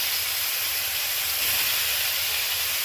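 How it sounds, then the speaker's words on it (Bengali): Potatoes stirred in hot oil in a wok, producing a loud, continuous hiss with no voices. "প্রথমে একটু কড়াইয়ে তেল দিয়ে আলুটা একটু নেড়ে নিতে হবে"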